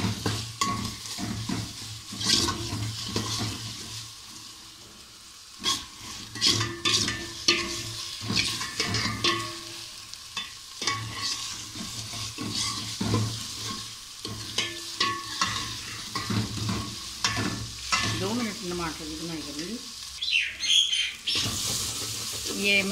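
Chana dal frying in a pot while tomatoes are added, with steady sizzling and repeated stirring scrapes, clattering pan knocks and brief bursts of running tap water.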